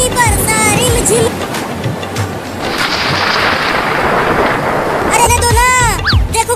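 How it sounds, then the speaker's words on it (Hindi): Heavy village rain pours down as a loud continuous hiss, with gusty rumbles and voices over it near the start and the end. "देखो कितनी तेज बारिश हो रही है"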